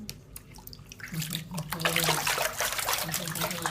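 A pet is rinsed with running water during a bath: a steady wash of splashing and pouring that starts softer and grows fuller and louder halfway through, continuing without pause.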